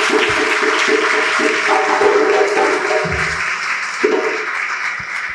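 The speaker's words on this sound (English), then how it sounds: "you guys need to give yourselves a round of applause" Graduates applauding themselves at a Kente Cloth Ceremony, a dense, loud round of clapping with a few louder bursts and thumps rising from the crowd, running continuously throughout.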